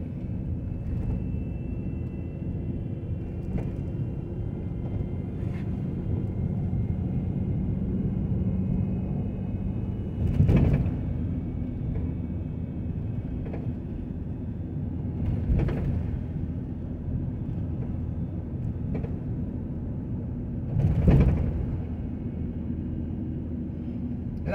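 Steady low road and engine rumble from inside a car driving along East Adams Street in Sandusky, Ohio, with a few brief knocks or thumps rising over the continuous hum.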